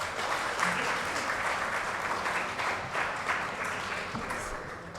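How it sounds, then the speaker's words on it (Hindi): Steady applause from an audience at an open mic night, a continuous wash of many hands clapping at moderate volume, sustained without pause, with a faint voice or two underneath. "कितनी कंजूसी करते हैं यार आप लोग ताली बजाने में।"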